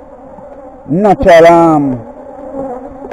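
Honeybees buzz loudly in a close, rising and falling drone at a 33-frame horizontal hive box, with a steady low hum underneath and a brief spoken word mixed in.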